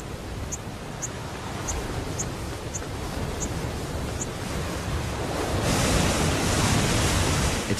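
A torrent of water pours down in the Scottish Highlands, a wall of water hiding a nest behind it, as a loud, steady, close roar that swells slightly toward the end, with faint regular chirps above it.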